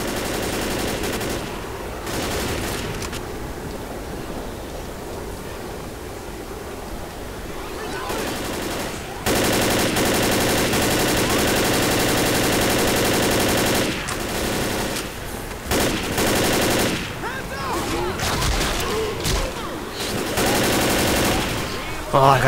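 Automatic gunfire from a weapon in the zombie shooter Left 4 Dead, sustained bursts across most of the span with short gaps, loud and dense, with a voice talking over parts of it.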